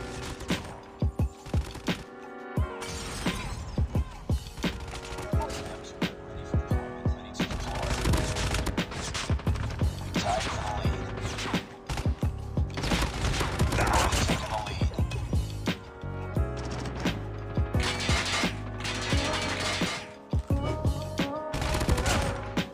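An assault rifle fires in Call of Duty Mobile multiplayer, with loud, dense bursts of automatic gunfire rattling almost without pause and sharp cracks and mechanical clatter mixed in.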